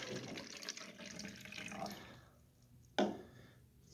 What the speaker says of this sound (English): measuring cup up to 1 cup with my food coloring water